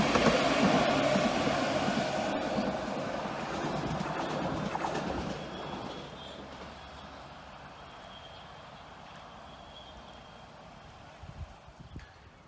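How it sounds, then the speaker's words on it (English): An East Midlands Railway passenger train from Nottingham to Worksop rumbles past close by near Basford, loud at first and fading to a distant hum as it moves away. "here's an East Midlands Railway service from Nottingham to Worksop"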